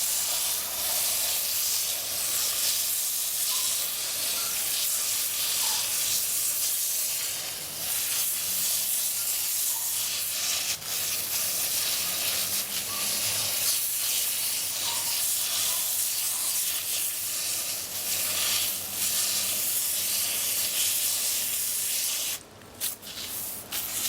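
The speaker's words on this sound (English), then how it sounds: "I'm going to try to loosen this root ball up just a touch with the hose" A garden hose sprays water steadily onto the root ball of a Hoya plant being repotted, a continuous close hiss and splatter that runs unbroken with only small shifts in intensity.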